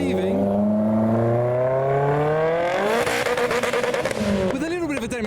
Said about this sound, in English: now as this 500 brake Fiesta is leaving